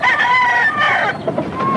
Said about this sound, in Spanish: Trabaja tu gallo.